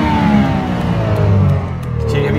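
A RUF Porsche race car in iRacing revs and accelerates, the engine tone sweeping steadily through the gears, loud and close, with a voice talking over it.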